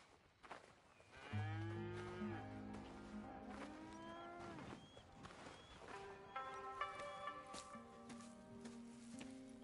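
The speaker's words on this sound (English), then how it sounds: "All right, then. Here's the cows." Cattle mooing on a ranch in the video game Red Dead Redemption 2, several long drawn-out lowing calls from a few cows in succession, fairly close and clear, with light ambient ranch noise and no talk.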